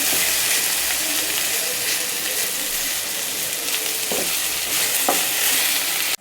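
Okra (vendakkai) sautéing in oil in a pan for an egg rice dish, a steady close sizzle with occasional spoon scrapes and stirs throughout.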